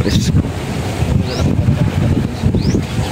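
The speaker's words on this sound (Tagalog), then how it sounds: "Mahangin. Presko." Outdoor wind gusting and buffeting the microphone with low rumbling, roughly steady, at a breezy spot with a small hut, and occasional faint background sounds like distant birds.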